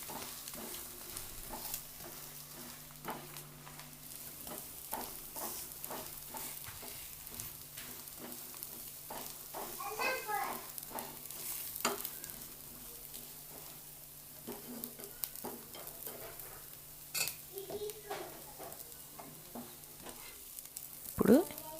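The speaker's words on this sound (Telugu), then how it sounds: "ఎగ్ కూడా కొంచెం రెండో సైడ్ తిప్పినప్పుడు కొంచెం వేగుతుంది" A sizzling pan of egg dosa frying after being flipped to its second side, with a steady low hiss broken by light scraping and stirring taps, no talk.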